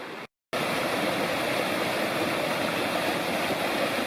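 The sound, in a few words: Kirkland Creek flowing at a creek crossing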